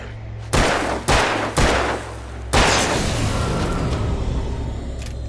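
Gunshots ring out in the video game Alan Wake: three sharp, loud blasts about half a second apart, then a fourth heavier shot that leaves a long, reverberant ringing tail, with no talk.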